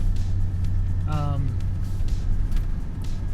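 A 1981-era Pontiac Trans Am is driven, its engine holding a steady low rumble from inside the car with a brief rising tone partway through, and the noise continues throughout.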